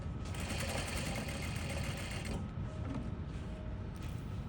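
A sewing machine stitches along the edge of a fabric pocket, its steady mechanical whir running close and continuous, easing slightly in the second half with no talking.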